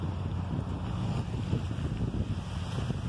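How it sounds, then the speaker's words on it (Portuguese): Ferry boat arriving at the breakwater on Itaparica Island in Vera Cruz, Brazil, heard as a continuous low rumble of engine and water mixed with wind buffeting the microphone and lapping waves, with no talking. "olha o ferryboat chegando"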